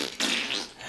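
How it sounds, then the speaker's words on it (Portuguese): A fart, a single rough broadband burst that starts abruptly and sustains for most of a second, loud and close, with no talking. "foda-se, tô peidando."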